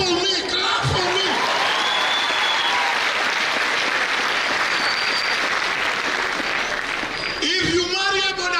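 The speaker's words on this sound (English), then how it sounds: "Clap for me, clap for me." An audience at an education and leadership congress claps loudly and continuously, with brief speech at the start and end of the applause.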